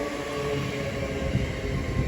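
A Great Western Railway class 802 train, unit 802014, runs through Didcot Parkway toward Cheltenham Spa with a loud, continuous rumble and hum close by.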